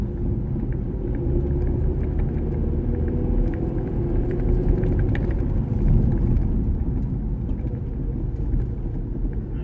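A Vauxhall Astra J driving and downshifting gears, heard as a steady low engine rumble and road noise inside the car, continuous and fairly loud with no clear pauses.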